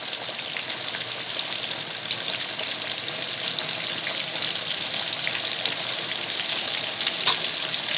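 Chicken pieces fry in a pan over a medium flame, a steady, dense hiss of sizzling oil that runs unbroken and fairly close throughout, with no voices.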